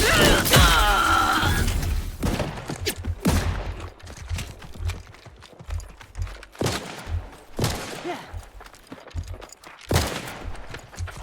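Irregular bursts of gunfire crack out in Outer Worlds 2 combat, with loud single shots and rapid volleys spaced unevenly over a busy background.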